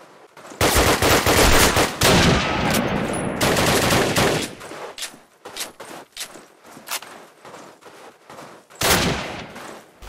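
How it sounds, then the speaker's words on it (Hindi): Gunfire in the video game Call of Duty: loud, close bursts of rapid automatic fire in dense clusters, with a brief pause in the middle and a final short burst near the end. "ये गन रैपिडली फायर बड़ी देर से करती है"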